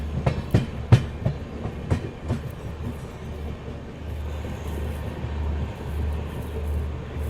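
The Bhopal Shatabdi Express rolls along the rails with rhythmic clickety-clack thumps early on, then a steady low rumble continuing without voices.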